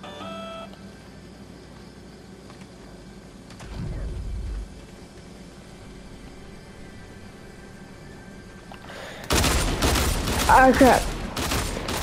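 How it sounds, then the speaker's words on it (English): Fortnite gunfire arrives after a long, quiet stretch of low game ambience: a loud, rapid string of close shots fills the final few seconds, and a brief spoken exclamation comes just before it. "Can you stop shooting at me?"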